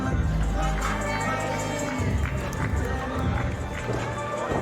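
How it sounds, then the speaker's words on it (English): A packed crowd in a large wrestling arena roars and cheers in a steady, dense wash, while an announcer talks over the noise. "look at this crowd, it is massive, it is packed inside the SPW arena"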